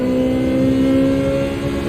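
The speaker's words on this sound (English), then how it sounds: "The V6 sounds so good with no cap." An Audi V6 engine with no cap in Gran Turismo 7 holds a steady, loud, buzzy drone at high revs, unbroken for the whole moment with no voices over it.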